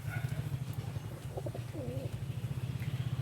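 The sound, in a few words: hen racing pigeon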